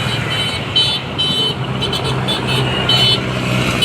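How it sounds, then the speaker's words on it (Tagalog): A vehicle horn sounds in a few short blasts over loud, steady road traffic and engine noise outdoors beside road construction on the Esplanade Phase 1A extension. "ayos yung busina ni kuya"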